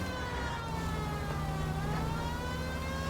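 A police car siren sounds in the video game L.A. Noire, a continuous wailing tone that slowly bends in pitch over a steady bed of city traffic noise.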